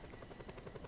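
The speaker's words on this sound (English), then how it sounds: "I'm in a helicopter, yeah." Rapid rhythmic chop of helicopter rotor blades in the video game Just Cause 2, a faint steady whirring pulse over a brief moment.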